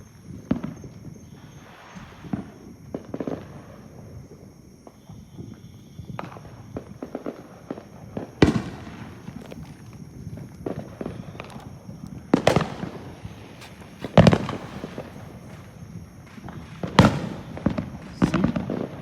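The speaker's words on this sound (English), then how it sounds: "Fireworks are going off." Fireworks popping in the night sky over Port Saint Lucie, Florida, a series of sharp, irregular bangs of varied loudness, some distant and muffled, others nearer and louder, over a quiet background.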